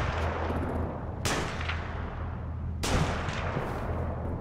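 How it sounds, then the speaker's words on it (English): Two sharp, loud gunshots about a second and a half apart ring out over a low rumbling ambience in The Walking Dead Telltale game, each with a short echoing decay. "They're still shooting."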